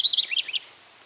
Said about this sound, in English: I'm upsetting our little bird friend here.